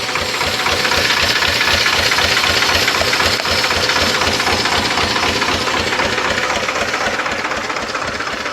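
A tractor engine runs steadily in a farm field, a loud, continuous droning rumble with a fast regular low knocking pulse throughout. No voices are heard.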